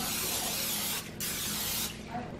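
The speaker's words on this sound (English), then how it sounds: "we're gonna spray it with some nonstick cooking spray" Continuous hiss of an aerosol nonstick cooking spray coating a baking pan, two sustained bursts with a short pause between, close and steady.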